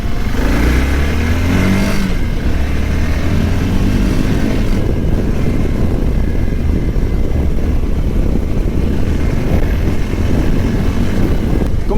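A Voge 650 DS motorcycle engine roars continuously, rising in pitch through first, second and third gears, with heavy wind rushing over the microphone.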